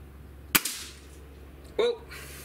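Single sharp crack of a Gamo Hornet Maxxim .177 air rifle firing, a loud close snap with a short tail, followed later by a brief spoken voice.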